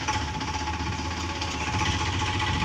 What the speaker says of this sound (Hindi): इस खेत को बोने के लिए देखो ट्रैक्टर आया है, खेत को बोएगा ट्रैक्टर। स्टार्ट हो गया है अभी